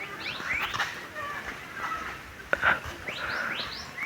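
Small birds chirp and tweet overhead outdoors in short rising calls, fairly faint against soft background noise, with a few brief call bursts over four seconds.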